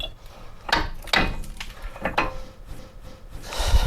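Metal brake disc being clipped and slid into place over the hub of a VW T5 van, giving several short scraping, knocking contact sounds close by, with quiet gaps between them and no talk.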